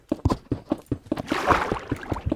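Loud computer keyboard typing, a quick irregular run of sharp clacks close to the microphone, with a brief rush of noise mid-burst as keystrokes blur together.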